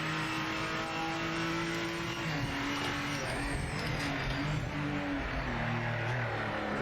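A Nissan Skyline R34 GT500 race car drones at speed on a circuit in the Project Motor Racing video game, its engine note holding high and steady with slight pitch shifts throughout.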